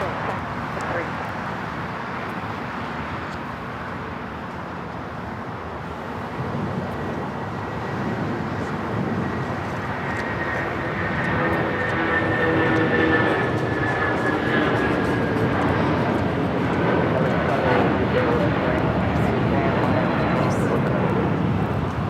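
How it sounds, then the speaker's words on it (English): United Airlines Boeing 757-200 jet taking off at LAX, a broad steady engine roar that swells louder over the second half with a faint rising whine. "This is United Airlines 1488 taking off to Newark on the 757-200."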